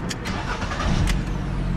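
Fiat Strada Freedom 1.3 flex pickup from 2022 starting up, a brief close burst of starter cranking that catches into a steady engine idle, heard alone.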